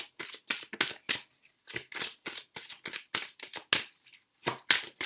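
A deck of oracle cards is shuffled up close in quick, crisp bursts, each riffle a short papery flutter separated by brief pauses, with no talking.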